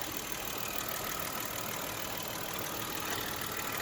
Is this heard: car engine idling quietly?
yes